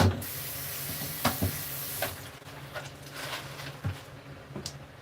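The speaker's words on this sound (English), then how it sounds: "Let me get this a quick rinse." Running water splashes from a tap during a quick rinse of food in a kitchen, a steady spraying hiss broken by a few knocks and thumps of handling.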